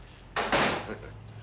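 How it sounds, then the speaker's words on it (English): An office door is pushed shut in a drama scene, giving a single short thud followed by a brief rattling settle, moderately close, with faint room tone and no one talking over it. "Close the door."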